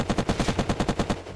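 Rapid automatic gunfire in the survival game Unturned during PvP: about eleven evenly spaced shots in a fast burst, loud and close, ending abruptly.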